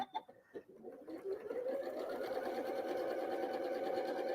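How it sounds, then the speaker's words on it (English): A sewing machine stitches pieces of a quilt block together, starting with a few stuttering clicks and then settling into a steady, close whirring run at a moderate volume. "And we're going to sew right along there."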